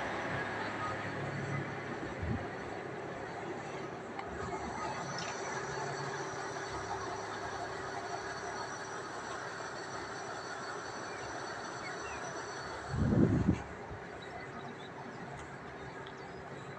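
A railcar train at Traisen station on the Leobersdorf line, a faint steady rumble and hum of the train heard from a distance on the platform, with a brief louder clunk near the end and faint voices.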